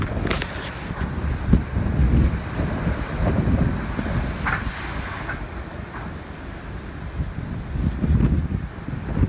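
Rough sea during Tropical Storm Grace on the Jamaican coast, with steady wind buffeting the microphone over continuous crashing surf and churning waves, loud and close with no voices.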